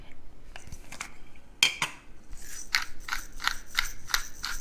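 Pepper grinder twisted over a simmering homemade cheese sauce, a short series of crisp ratcheting crunches in a regular rhythm, close and moderately loud after a few clicks and clatters.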